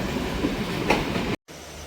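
A train rolling along the opposite-side track in northern Sri Lanka, a steady loud rumble and rattle of wheels on rails, with a brief sharp dropout near the end.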